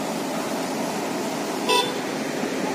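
On a Sumatran road jammed with traffic, one short car horn toot sounds over a steady wash of engine and road noise, moderately near.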